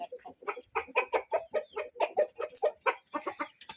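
A rooster at a breeder's clucks in rapid, closely spaced bursts, loud and near, a steady run of throaty calls without pause.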